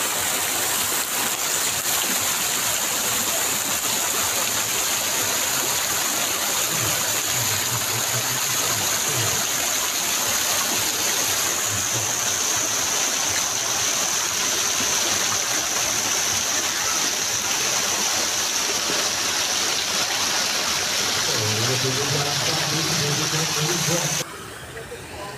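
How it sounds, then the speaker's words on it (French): A small waterfall pours into a hotel swimming pool in Turkey, a steady broadband rush of falling water that stays loud and continuous throughout, with faint low murmurs of voices briefly beneath it. "une petite cascade que je vais aller approcher pour la tester"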